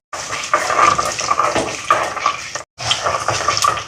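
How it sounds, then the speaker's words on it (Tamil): Fenugreek seeds fry in hot oil with a loud, close, steady sizzle and crackle, broken by one brief pause, with no talk over it. "இப்போ வெந்தயம் வந்து நல்லா பொரியட்டும்."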